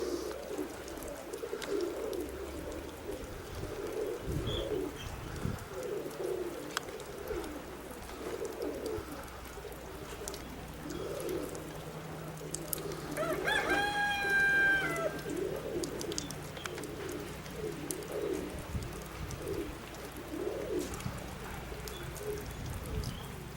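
Roller pigeons at a high mountain roller competition coo softly in repeated low murmurs, faint and somewhat distant over quiet outdoor ambience, with a brief brighter call partway through.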